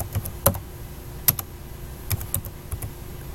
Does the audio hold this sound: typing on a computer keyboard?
yes